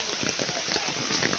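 A hard rain shower in a village, a thick, steady wash of close patter with no clear breaks, lasting only a moment.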